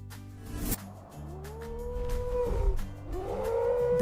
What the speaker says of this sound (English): The wild wolf howls at the moon.